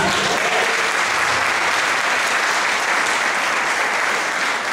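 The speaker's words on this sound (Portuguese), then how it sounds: "Dá para dar um aplauso para o Senhor?" A church congregation applauds during a family worship service, a dense, steady wash of many hands clapping that holds loud and unbroken throughout.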